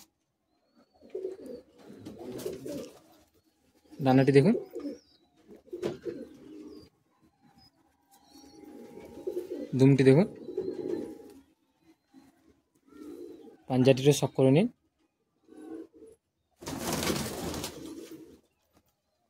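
A Madrasi high-flying breeding pair in a Kolkata pigeon loft, cooing in repeated short bursts separated by quiet gaps, while someone talks intermittently nearby.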